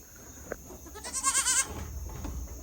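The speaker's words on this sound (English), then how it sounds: "You're the luckiest goat alive." A goat on a farm in Jamaica gives one loud, quavering bleat close to the microphone, set against low background noise and a faint click just before it.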